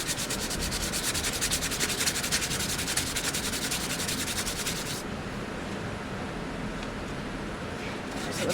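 Close, continuous sanding rubs steadily across a surface with a harsh, gritty rasp. About halfway through it shifts to a duller, smoother scrape, and faint talk sits low beneath it.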